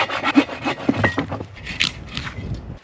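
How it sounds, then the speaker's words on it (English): Handsaw cutting through a log at a winter bushcraft camp, rhythmic rasping strokes, about six of them, close and fairly loud, with the strokes growing uneven toward the end. "This is the way I cut wood to make life easy."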